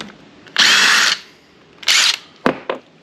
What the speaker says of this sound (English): if you're gonna pull flywheels on old bikes, you're gonna need an impact, wrench, driver, and this flywheel puller